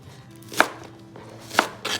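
Two crisp knife chops through green onions on a cutting board, spaced about a second apart with a softer third cut at the end, close and clear in a quiet kitchen.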